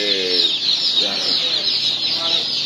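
Chickens and roosters cluck steadily and loudly at a crowded poultry market, with bird calls overlapping continuously and voices mixed into the din.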